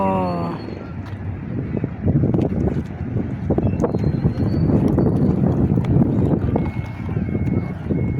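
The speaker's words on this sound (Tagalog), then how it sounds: "Malakas ang hangin." Strong wind buffets the microphone with loud, continuous gusty roar at a boat terminal for Boracay, with faint background activity underneath.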